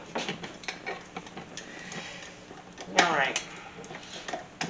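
A paddle attachment clicks onto a stand mixer in a home kitchen while cheesecake is being made, giving a short metallic clatter and a few light clicks mixed with a voice speaking nearby.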